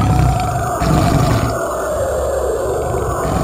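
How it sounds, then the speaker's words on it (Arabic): A recorded tiger roar from the Ghost Tape Number 10 psychological warfare recording, a loud sustained rumbling growl with a gritty, noisy texture that holds steady throughout. "قامت كتيبة الحرب النفسية الأمريكية بتسجيل صوت زئير نمر وقامت بدمجه مع أصوات الصراخ والبكاء في شريط الأشباح رقم 10"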